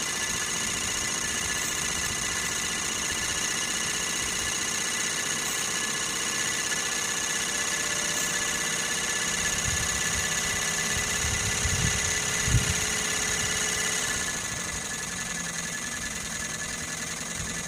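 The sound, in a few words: Sirius steam engine generator test running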